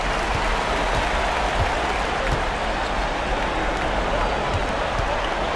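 A virtual basketball arena crowd in NBA 2K24 cheers and applauds steadily as a home team closes out a win, a dense continuous roar with scattered claps throughout, even and loud from start to finish.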